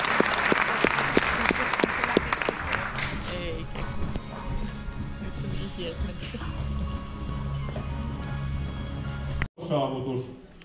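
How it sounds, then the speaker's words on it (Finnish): Ringing audience applause at a sports awards gala, loud and dense at first, then thinning into scattered clapping under room murmur and voices, cut by a brief break before the noise resumes. "Ja näin raikuvat aplodit"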